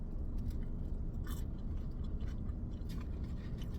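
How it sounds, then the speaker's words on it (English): Close, steady chewing and crunching of slightly overcooked, peppered french fries from a Tampa food truck, with a few sharp bites standing out over a constant low rumble and no talking. "But I do like crunchy fries."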